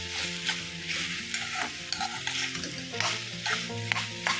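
Grated coconut sautéed in a pan, a continuous close sizzle under rhythmic scraping and stirring strokes of a spoon, steady and moderately loud with no voices.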